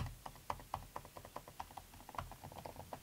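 Quick, light typing on a 2017 MacBook Pro 15-inch butterfly-switch keyboard: shallow, clicky keystrokes in an uneven rapid patter, close and quiet.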